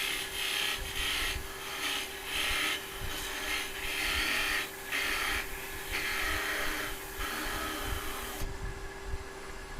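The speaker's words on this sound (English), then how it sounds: "Tool in one hand, finger kind of on top, and slowly move your gouge into place." A wood turning gouge cuts a small piston box spinning on a lathe, giving rhythmic rasping, scraping bursts over a steady motor hum, close up, pausing briefly between passes and stopping near the end.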